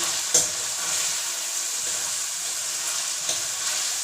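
Peas cook in hot oil with onions in a pan, a steady close sizzle and hiss with a few sharp crackles and stirring clinks, no voices.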